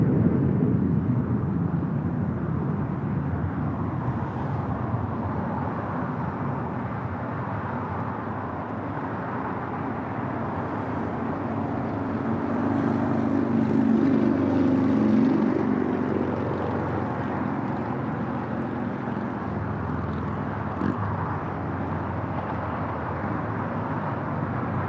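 A Boeing 747-400 freighter rumbles at a departure runway, a broad distant engine roar that holds steady and swells gently toward the middle, heard from some way off.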